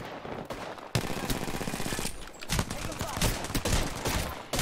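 Rapid gunfire from a video game firefight crackles in dense automatic bursts that come and go, loud and continuous across the moment.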